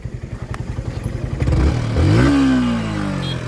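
A Yamaha R15 V4 motorcycle idles with a quick even putter close by, then its engine revs up into a loud rising whine that holds and settles, with a few clunks and scrapes.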